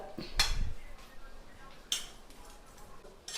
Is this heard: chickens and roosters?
no